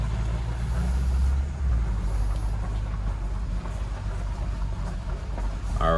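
A new 2021 Bentley Continental GT Mulliner pulls out of a driveway in the Hamptons, heard as a steady, deep engine and road rumble from inside the car, constant and fairly loud throughout.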